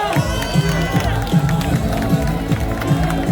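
Crowd cheering and clapping at an outdoor presidential campaign rally in front of Seoul Station, a dense, loud, continuous roar with rhythmic claps and voices mixed throughout.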